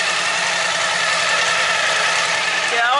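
A motorcycle engine idles steadily and close by, a continuous even rumble with a rough, buzzing texture that holds constant throughout.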